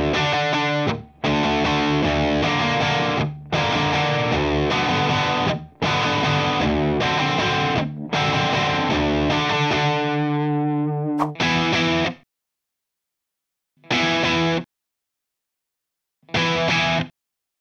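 A heavily distorted Les Paul electric guitar plays a chunky, rhythmic riff with ringing chords, then stops into short separate stabs with silent gaps between.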